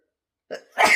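A single close sneeze: a short sharp intake followed by an explosive burst of breath, then silence.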